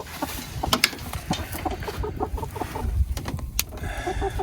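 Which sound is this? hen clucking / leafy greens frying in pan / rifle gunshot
hen clucking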